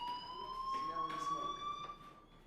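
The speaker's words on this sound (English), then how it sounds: "Hey, do you hear that fire alarm?" A fire alarm rings inside the video game Life is Strange, a steady high electronic tone held throughout with some faint overlapping sounds in the background.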